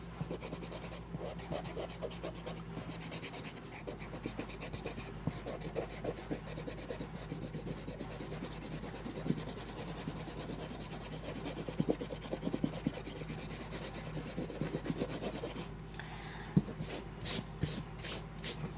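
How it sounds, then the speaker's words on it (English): An eraser rubs out excess pencil lines on paper, a close, continuous scratchy rubbing with quick back-and-forth strokes and a few faint taps near the end. "And then simply erase the excess lines."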